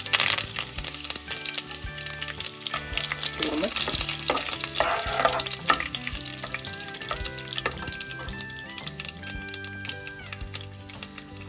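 Black mustard seeds and curry leaves sizzling and crackling in hot oil while poha is being made: a dense, steady hiss with quick popping bursts and a few scraping stirs, loud and close with no talking.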